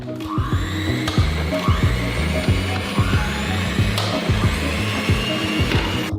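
An electric mixer whipping egg whites in a bowl, with a loud, steady motor whir and rhythmic pulsing as the beaters turn, continuous and close, with no voices.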